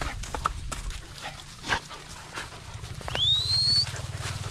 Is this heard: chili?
no